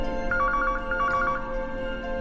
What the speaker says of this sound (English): Someone pick up the phone.